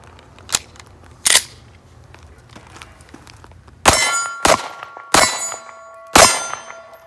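Pistol shots from a Taurus PT111 at a shooting range: six sharp, loud reports at irregular intervals, two fainter early ones and four close, ringing blasts later with metallic clangs after them.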